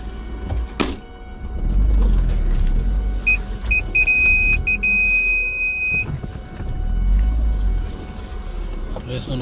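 A car driving off-road along a rough forest track, with a steady low engine rumble and occasional thunks as it rolls over bumps, while people talk over it.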